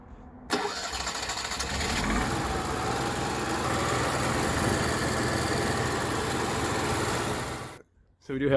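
An Onan generator engine converted from LP to gasoline starts and runs steadily with a constant mid-pitched roar, loud and close, then cuts out abruptly near the end.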